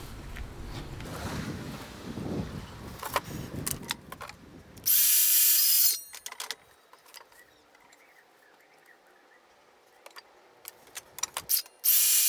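A power drill drives screws to fasten cut strips around the edges of a wooden board for a rhombus bee escape, one loud whirring burst followed by clicks, taps and quieter handling noises.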